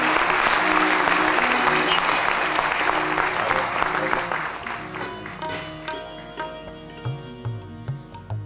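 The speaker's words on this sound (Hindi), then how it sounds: "एक बार हमारे सभी साथी कलाकारों के लिए आपकी तालियां" Large audience applauding visiting performers at an International Customs Day cultural event, a dense sustained wash of clapping that fades after several seconds as a harmonium-like instrument and singing begin.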